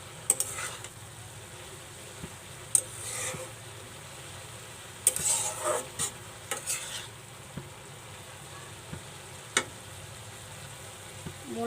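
Radish bhaji stirred in a pan, a soft background sizzle with scattered scrapes and light knocks of the spoon against the pan, some close clinks, otherwise quiet.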